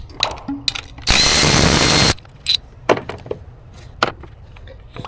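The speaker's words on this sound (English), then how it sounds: "now we're gonna take this bolt out, and then we will be able to remove this old ignition coil" A power tool whirs for about a second as a bolt is removed from the ignition coil of a 2006–2012 Toyota RAV4, followed by quieter clinks and handling knocks of the work nearby.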